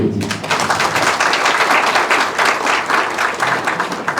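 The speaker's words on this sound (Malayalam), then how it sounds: "ഈ കയ്യടിയാണ് നമ്മുടെയൊക്കെ സന്തോഷം." Sustained applause from an audience at a Malayalam short film preview at Ravindra Bharathi, dense and steady clapping from many hands throughout, fairly close and loud.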